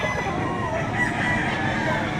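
A rooster at a weekend chicken market behind SM City Lipa, Batangas, crows amid a busy outdoor murmur of fowl and people, the call blending into the steady crowd noise rather than standing out sharply.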